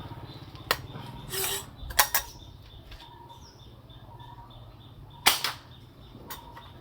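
Sharp gunshots from test firing a gun with a slide barrel set and 65 cm barrel, sounding as a few scattered cracks with quiet gaps between them, with faint birds in the background.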